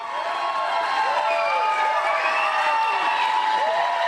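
Loud, continuous crowd cheering and whooping at a live steakhouse event with Kid Rock, a dense roar of many voices filling the whole stretch without a break.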